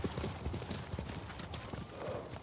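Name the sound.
horse hooves clip-clopping in video game Ghost of Tsushima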